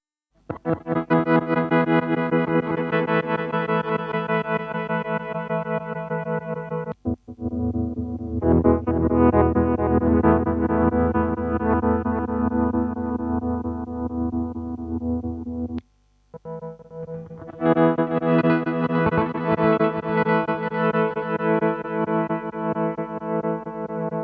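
Electric guitar chords played through a Beetronics fuzz pedal with heavy distortion, thick and sustained, ringing in three long held sections split by brief pauses.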